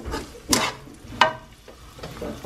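Bacon for carbonara cooks in a pan with a soft, steady sizzle, broken by a couple of sharp scraping stirs close by.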